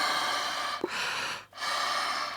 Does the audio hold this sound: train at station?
no